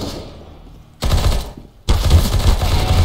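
Gunfire in Counter-Strike: Global Offensive: two loud bursts of rapid automatic fire, the first about a second long and the second running to the end, dense and close, with no talking.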